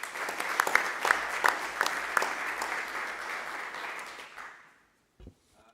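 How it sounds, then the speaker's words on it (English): An audience at a college board meeting gives a warm round of applause for a retiring colleague, dense clapping with a few sharp standouts, gradually fading out to near silence. "Please join me in a round of applause for Jerry."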